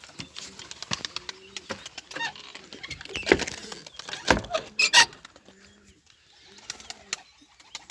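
Birds and newly hatched chicks in a coop: soft cooing and clucks, thin chick peeps and a few louder flutters and knocks, close by amid scattered rustling.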